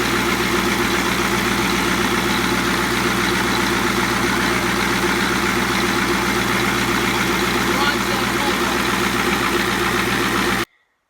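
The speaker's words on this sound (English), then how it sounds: "The engine's running real smooth now." A boat engine hums steadily and evenly at idle after a fuel system fault was fixed, a constant low drone running without pause until it cuts off abruptly near the end.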